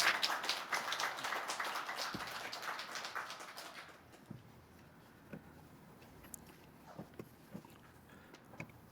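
A church congregation breaks into loud, sustained applause to welcome the pastor, dense clapping for about four seconds that then thins to a few scattered claps in a quieter room.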